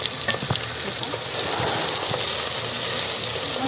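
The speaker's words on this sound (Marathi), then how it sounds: "आता तेलमध्ये टाकून द्यायचे, परतून मस्त परतून द्यायचे।" Chopped onions sautéing in hot oil for a village-style mutton curry give off a steady, dense sizzle with a few scrapes of stirring, close and continuous, no voices.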